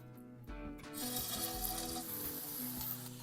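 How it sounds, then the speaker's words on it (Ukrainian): Buckwheat and vegetable meatballs fry in a little oil in a pan over high heat, giving a steady, close sizzle with faint scraping and no talking. "Смажу фрикадельки на великому вогні."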